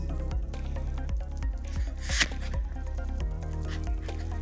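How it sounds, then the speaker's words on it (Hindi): Spiced jackfruit pieces are stirred in a pan, making a steady, close-up squishing and rubbing sound that repeats throughout over a dense background drone. "इसे अच्छे से चला के सारे मसालों के साथ इसे सूखे मसालों को भी मिक्स कर लेंगे"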